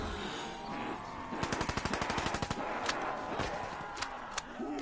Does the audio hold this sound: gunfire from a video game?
yes